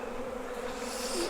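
Honeybees swarm around open hive frames during an April hive inspection: a steady, close, dense buzzing drone that stays even throughout, with no voices.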